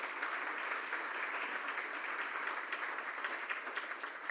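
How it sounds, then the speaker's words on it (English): An audience at a Rotary Club of Tulsa meeting applauds its guests with steady, dense clapping that holds at an even level throughout, with no voices standing out. "now let's give a round of applause for those guests."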